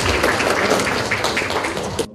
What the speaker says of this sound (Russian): участника специальной военной операции Константина аплодисментами встречают в актовом зале 132-й школы